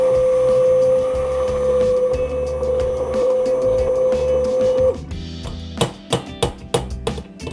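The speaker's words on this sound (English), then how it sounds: "And then we're gonna blend it up again." A kitchen blender purees squash soup seasoned with cinnamon, pepper and salt, giving a steady whirring hum for several seconds. The motor then stops, followed by a few sharp knocks and clatters nearby.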